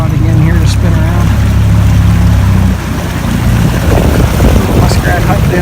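Outboard motorboat engine on the Yellowknife River, a loud low drone that rises and shifts as the throttle is given a shot, with wind and water noise throughout.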